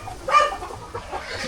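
Chickens and roosters cluck inside a coop, a couple of short, fairly faint clucks at a moderate distance over a quiet low background.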